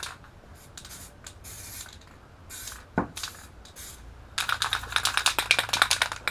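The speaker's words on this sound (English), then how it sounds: "You got to try to keep these up vertical or they just won't spray." An aerosol paint can sprays car cowl inserts in short hissing bursts separated by pauses, with a sharp clack partway through, then a longer run of rattly, pulsing spray near the end.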